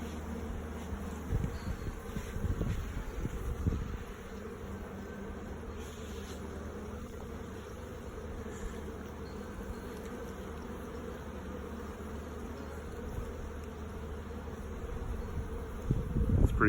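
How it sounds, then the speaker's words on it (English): Honeybees buzzing at an opened hive during a January inspection with drone comb present, a steady dense hum close to the microphone, with some handling rustles near the start and end. "Pretty hive of bees."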